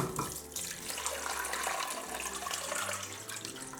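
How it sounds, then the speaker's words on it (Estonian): Tap water runs into a cabbage pot being filled for cooking in a kitchen. A steady, close splashing pour that deepens in pitch as the pot fills, with no talking. "Nii et tuleks veega täis."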